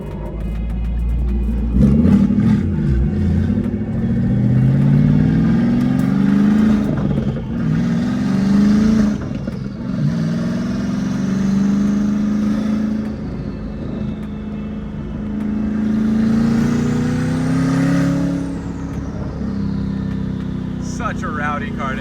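A loud twin-turbo Ford Mustang engine revs and accelerates repeatedly, rising and falling in pitch as the car drives close by on a street, with occasional talking.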